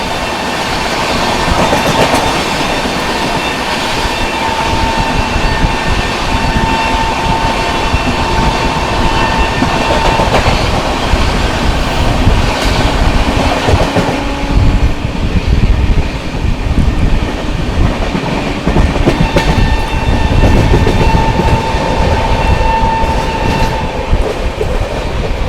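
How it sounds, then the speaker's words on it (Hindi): The 12566 New Delhi–Darbhanga Bihar Sampark Kranti Express running through Govindpuri station without stopping, a loud continuous rumble with rhythmic wheel clatter and faint squeals, heard from on board. "ट्रेन जो है अपनी गोविंदपुरी स्किप कर रही है"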